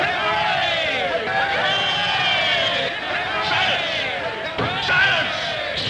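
A crowd cheering and shouting together inside a courtroom, a dense loud roar of many voices that rises and falls and never stops, heard close.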